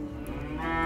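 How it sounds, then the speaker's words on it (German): Cattle moo in a dry winter barn on a farm in southern Hesse, one long, close, loud moo that rises in pitch toward the end. "Die Kühe sind in dieser Jahreszeit im trockenen Stall."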